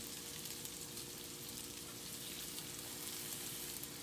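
French toast sizzling in cinnamon butter in a hot pan, a steady, dense crackle and hiss that continues unbroken and fairly close, with no talking over it.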